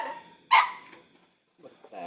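A dog gives one sharp, fairly close bark, then falls quiet. A person's voice follows near the end.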